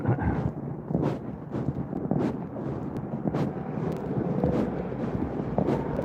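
Wind buffets an outdoor microphone in steady, low rumbling gusts on a mildly windy day, a continuous broadband roar with periodic swells and no clear voices.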